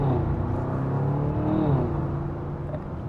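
A 2026 Audi SQ7 in comfort mode pulls at about half throttle, its engine a steady, fairly loud low drone with rising harmonic whine, heard from inside the cabin for a few seconds without talk.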